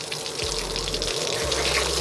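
Water gushes steadily from a tap into a basin on a boat, a continuous rushing flow with the fresh water pump's low hum cycling on underneath.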